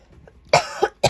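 Two or three sharp, close coughs in quick succession after a short quiet stretch, with a brief pause before the last one.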